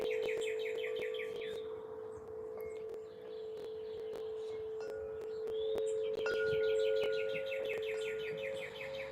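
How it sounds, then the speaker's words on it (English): A bird singing outdoors in repeated chirping phrases, moderately near, with a steady tonal hum underneath and brief pauses between bursts of song. "There's a beautiful bird singing up there,"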